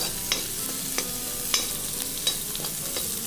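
Capsicum sautés in a hot kadai, a continuous bright sizzle with regular scraping taps of a spatula stirring every half second or so, close up and without speech.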